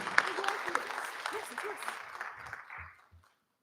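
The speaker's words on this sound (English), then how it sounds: "Another round of applause for Landon." A school board meeting crowd applauds a student of the month, soft and moderately distant under murmuring voices, fading out after a few seconds.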